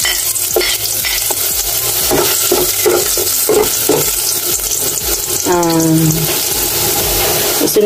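Ginger sautés in hot oil in a pan for a chicken and pork nilaga, a loud continuous sizzle with rhythmic scraping stir strokes and a brief voice near the end.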